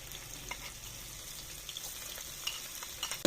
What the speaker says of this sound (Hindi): अदरक लहसुन के पेस्ट को अच्छी तरह से भूनेंगे